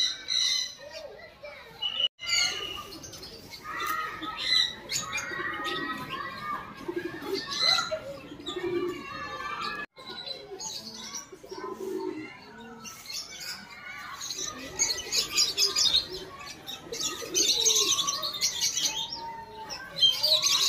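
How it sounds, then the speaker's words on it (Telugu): Many birds chirping, tweeting and squawking close by in a crowded aviary holding ducks and black and white pigeons at Shilparamam in Hyderabad, with busy overlapping calls throughout and faint voices and children in the background. "పక్షుల సౌండ్ వినండి ఒకసారి ఎలా వస్తుందో"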